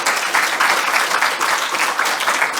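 A short burst of steady audience applause at a lightning-talk session of a Python conference in Ireland, dense even clapping filling the room for a few seconds.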